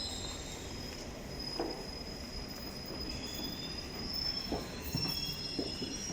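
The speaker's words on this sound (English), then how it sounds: "That's a Chiltern Railway service." A Chiltern Railways train at Wembley Park station, heard as a steady rail rumble with faint wheel squeal and a few brief clicks, fairly distant, no talking.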